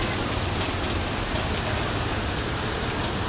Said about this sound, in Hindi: यहाँ बारिश में फंसा हुआ हूँ मैं।